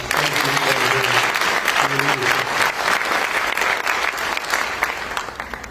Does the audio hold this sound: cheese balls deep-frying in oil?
no